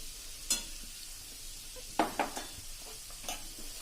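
A spoon stirs a spicy seven-grain khichdo mixture with green garlic in a pan. A few sharp scrapes and knocks stand out over a faint sizzle, and no one speaks.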